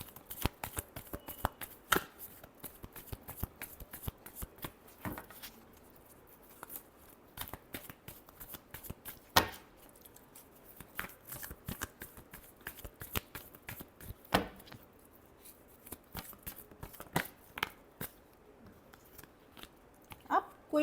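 Tarot cards being shuffled, a dense run of crisp riffling clicks and slaps going on continuously and close up, with brief louder bursts scattered throughout.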